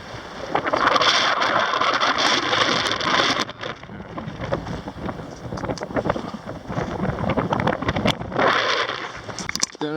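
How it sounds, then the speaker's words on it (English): Strong wind on a foggy hilltop near lakes on the Pacific Crest Trail buffets the microphone in gusty, rumbling bursts, with fluttering noise rising and falling over ten seconds. "It's really windy."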